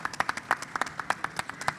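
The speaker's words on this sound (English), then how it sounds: "A round of applause for our judges today." A small audience at a startup pitch competition claps for the judges, a sparse, loose patter of individual hand claps at moderate distance, fairly quiet with no talking over it.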